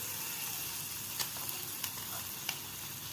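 Paneer pieces fry in a pan with a constant, close sizzling hiss, broken by a few sharp little pops and crackles.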